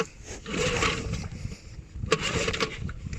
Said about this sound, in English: He's starting the engine here.